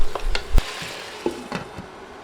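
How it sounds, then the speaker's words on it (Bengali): Chicken and potatoes stirred with oil and spices in a pan over medium heat give a few scraping, clattering strokes against a soft sizzle, the sharpest knock coming early and the rest fading. "এবার তেল মশলার সাথে মাংস ও আলু নেড়ে ভালোভাবে মিশিয়ে দিতে হবে।"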